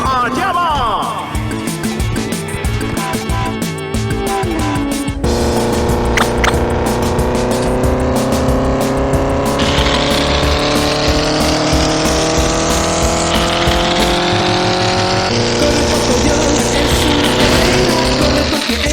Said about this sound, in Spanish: Los mecánicos ponen a punto los bólidos.